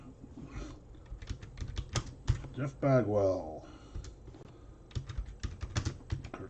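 Computer keyboard typing while a list of baseball names is being entered, rapid clicky keystrokes in irregular bursts underneath a man's ongoing speech.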